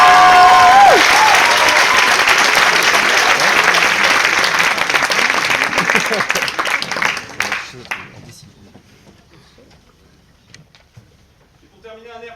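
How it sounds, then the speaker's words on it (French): Loud audience applause for a student trumpet player at a secondary-school concert fills the hall, dense and sustained for about seven seconds before thinning into scattered claps and fading to near quiet, with a few late claps at the very end. "je propose qu'il se lève et qu'on l'applaudisse très fort"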